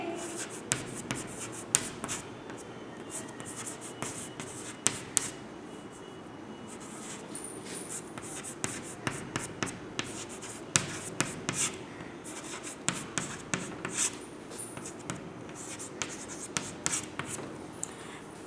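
A pen scratches on paper as answers are written by hand during a second-grade Hindi lesson, with steady close strokes and light taps repeating throughout against a quiet room.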